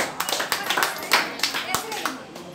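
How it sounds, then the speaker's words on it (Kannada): A gathered group claps loudly together in a quick, uneven run of sharp hand claps, close and continuous, with voices talking underneath. "ಜೋರಾಗಿ ಚಪ್ಪಾಳೆ ಮಾಡಿ"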